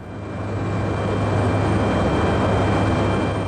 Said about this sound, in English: this UPS Boeing 767 was cleared to take off